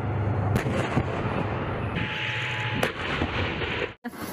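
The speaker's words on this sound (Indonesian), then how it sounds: "Wah, masih ada tembakan." A toy tank's battery-powered gunfire effect, a loud run of electronic cannon blasts and rapid shots played close by, ending in a short pause before another burst, with no talking.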